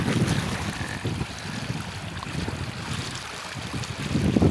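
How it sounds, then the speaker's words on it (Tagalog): Outdoors by a river, steady wind buffets the microphone over a broad wash of moving water, with low rumbling gusts rising toward the end; no voices. "Sa ilog kami, guys."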